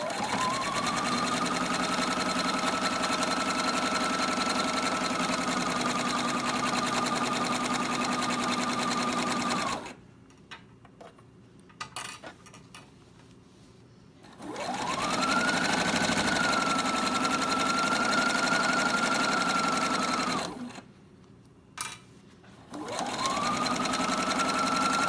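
A sewing machine stitches and backstitches in steady runs with a whirring motor hum, stopping twice for short quiet pauses before starting again.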